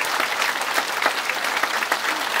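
A congregation claps steadily and densely for God during a sermon, the close, loud applause filling the whole short stretch with no voice over it.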